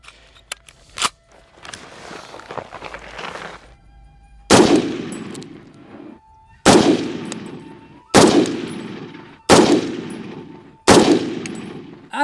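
Five loud, sharp M1 Garand rifle shots, each with a long echoing decay, fired at roughly even intervals of one to two seconds after a few quieter clicks and handling noises, close and with no talking.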